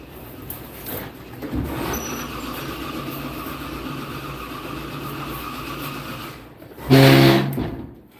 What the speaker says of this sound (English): I heard a car fired up